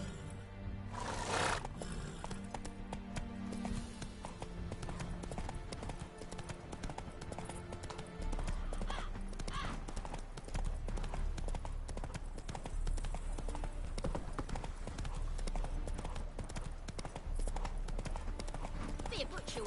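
Roach, the horse in the video game The Witcher 3, gallops along with quick, rhythmic clip-clop hoofbeats. Voices are heard over the hooves, and the pounding continues steadily throughout.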